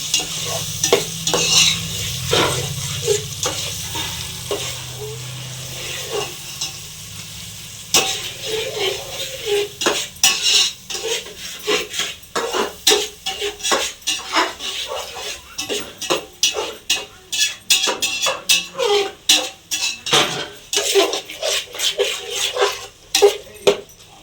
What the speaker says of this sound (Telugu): బాగా కలుపుకోవాలండి అలా అంతా కలిసేలా బాగా కలుపుకోవాలి మనం